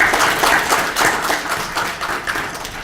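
A seated audience at a policy forum on disability legislation claps in steady, slightly rhythmic applause, close and fairly loud, as a professor is invited to speak.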